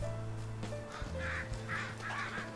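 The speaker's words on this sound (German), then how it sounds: "Ihr hört die Krähen jetzt." Crows cawing in Farming Simulator 19 from an added crow mod, a few harsh calls repeating over a steady low engine-like drone of farm machinery.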